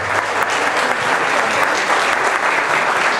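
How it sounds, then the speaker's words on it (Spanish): A crowd at a Colombian music celebration applauds for the ladies present, a dense, steady clapping that stays loud and continuous throughout. "pido primero que un aplauso bien fuerte para las damas lindas que nos acompañan en el día de hoy"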